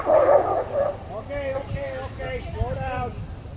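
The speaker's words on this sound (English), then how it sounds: "This huge dog apparently ran out to play on the thin ice and didn't realize how it ended up in the cold water" A huge dog that broke through thin ice into cold water yelps and whines in short, rising cries, fairly close and repeated over a low rumbling background.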